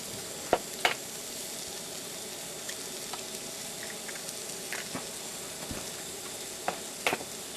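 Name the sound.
eggs being cracked into a plastic bowl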